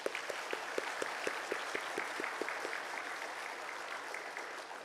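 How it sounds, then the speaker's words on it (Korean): A church congregation gives its teachers a round of encouraging applause, with distinct sharp claps standing out over a soft, steady wash of clapping, heard at a distance and fairly quiet. "우리 그분들을 위해서 한번 격려의 박수 보냈으면 좋겠습니다."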